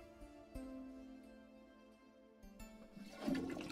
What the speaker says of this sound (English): Oh, just another flush for good measure